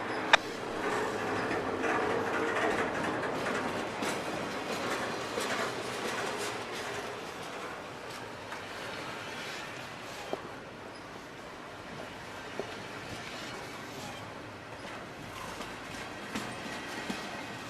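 CSX freight train Q130, led by SD50-2 locomotives 998 and 8541, rolls past at a distance with a continuous low rumble and rail noise, loudest early then easing, with a few faint clanks from the cars.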